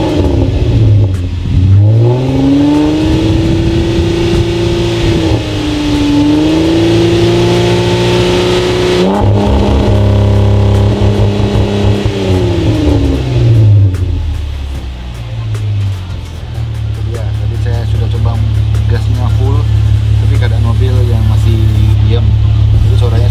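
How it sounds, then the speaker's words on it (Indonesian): A Jeep Wrangler JK engine revs up and down repeatedly through a deep, throaty aftermarket exhaust, loud and close, with a sustained rumble between revs. "Jadi ini adalah knalpot InGen yang sangat mantep suaranya."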